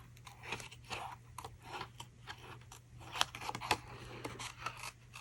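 Scissors snipping through paper while making a stamped tealight card, a run of small crisp crunching cuts at an uneven pace, close and fairly quiet over a low steady hum.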